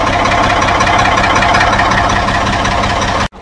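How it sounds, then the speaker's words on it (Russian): A car engine running at a steady idle just after starting in snowy winter conditions, a loud, close, even rumble with a rhythmic knocking throb that cuts off abruptly at the end. "завелся. Сейчас пусть молотит."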